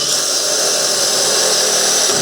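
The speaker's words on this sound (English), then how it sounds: "I'm going to drill a hole way off center here" A power drill bores a hole through a gutter downspout being made into a hydroponic container, giving one loud, steady, high whine that runs unbroken with no voices.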